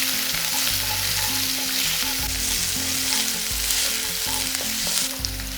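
Chopped onions fry in a pan as a fish dish is cooked, with a loud, dense, continuous sizzle and crackle and a low steady hum beneath, heard close and with no talk.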